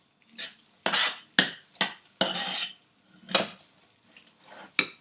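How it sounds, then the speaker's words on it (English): Harabhara kebab mixture being stirred in a pan over low flame, giving a series of irregular scraping and rubbing strokes of a utensil against the pan, close and distinct with short pauses between. "Mix everything really well together."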